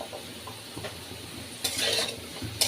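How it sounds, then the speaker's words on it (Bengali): Malabar spinach being stirred and sautéed in a pan with fish oil and a little dry chilli powder, with soft scraping and clinking of a utensil against the pan and a brief brighter burst of sizzle midway. "দেখুন আমি ভালোভাবে কষিয়ে নিচ্ছি।"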